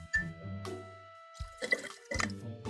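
Red food-coloured water is poured into plain tap water, making several separate splashy glugs and trickles with short pauses between pours, close and fairly quiet.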